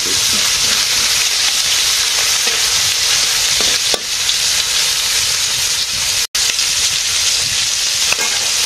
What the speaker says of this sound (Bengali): মাছ ভাজি করা হয়ে গেছে